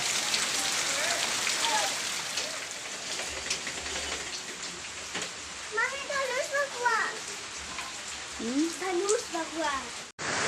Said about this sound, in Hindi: देखिए यहाँ पर बारिश हो रही थी, आज बहुत ज़्यादा बारिश हुई थी